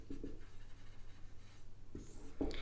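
Chalk or marker strokes on a classroom board during a physics lesson on light reflection and refraction: faint scratchy bursts over a steady low room hum, with sharper strokes near the end.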